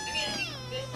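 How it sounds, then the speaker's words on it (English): Six-week-old registered Burmese kittens give a single short, high meow close by, rising and falling over under a second. "CFA registered kittens."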